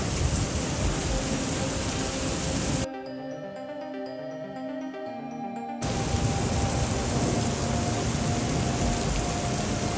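Severe storm rain pours over Iowa and Nebraska farm country as a continuous loud roaring hiss, cut midway by a quieter stretch of tonal sound before the downpour resumes.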